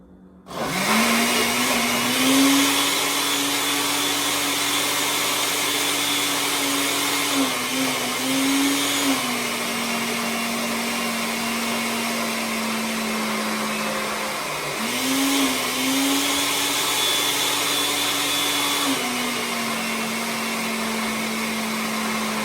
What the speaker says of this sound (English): That's not blending the way I like